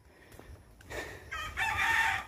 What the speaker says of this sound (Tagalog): Puro talaga manok. Manok pang sabong.